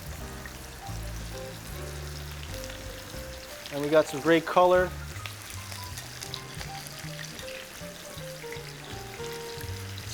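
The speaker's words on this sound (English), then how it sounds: "We've also got a nice sizzle going with our chicken." Constant soft sizzling of chicken cooking in a pan, heard under a person talking, with a brief louder scrape or stir in the middle.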